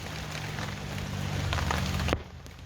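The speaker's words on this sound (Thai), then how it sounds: "วันนี้ฝนตกตลอดเลยค่ะ" Steady rain falls outdoors in a garden where galangal is being dug up, a dense close hiss of drops that fades abruptly near the end.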